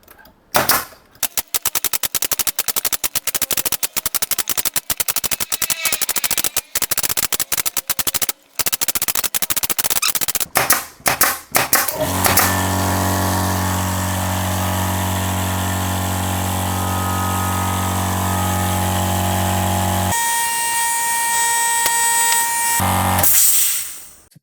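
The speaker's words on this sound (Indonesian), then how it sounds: "Saya akan menggunakan paku tembak." An RJC 2HP 50-litre 1500W air compressor feeds a pneumatic nail gun, giving rapid sharp nail shots in bursts for about twelve seconds, then the compressor motor starts and runs with a loud steady hum and whine.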